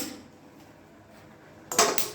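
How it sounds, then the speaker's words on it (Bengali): A metal wok (kadai) is set down on a kitchen stove with a single sharp clank and a brief ringing rattle, following a moment of near quiet. "কড়াইটা বসিয়ে দিলাম,"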